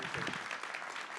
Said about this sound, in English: Can we give Robin a round of applause, please?